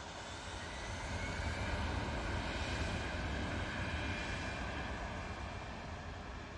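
An EasyJet airliner departs Manchester Airport for the Isle of Man, a broad, steady jet engine roar that swells slightly and holds loud throughout without any talk.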